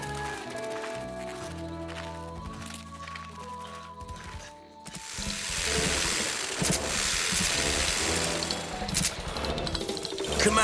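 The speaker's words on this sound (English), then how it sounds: "What's that? It's chainsaws." Chainsaws whine and rev in the distance, rising to a louder, harsher snarl partway through, with faint rustling movement nearby.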